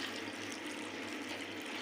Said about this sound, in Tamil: ஜீரகம் சோம்பு அந்த அரைச்ச பேஸ்ட் சேர்த்துட்டு இப்போ தண்ணி ஊற்றிக்கலாம்.